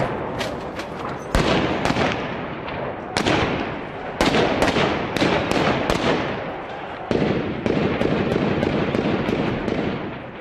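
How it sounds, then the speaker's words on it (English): Heavy gunfire in a battle for a town, with sharp shots and bursts cracking repeatedly and echoing over a continuous roar of distant fire. "the heavy gunfire showed that the rebels were still fighting back"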